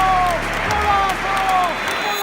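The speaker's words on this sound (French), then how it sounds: "Et même les supporters de la Juventus sont applaudis." A football crowd applauds a Ronaldo bicycle kick goal against Juventus in a Champions League match, a dense continuous wash of clapping and crowd noise with a voice speaking over it.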